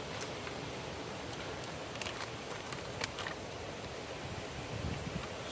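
Steady wind buffets the microphone outdoors, a low, continuous rumble with faint rustling and occasional soft ticks, no voices.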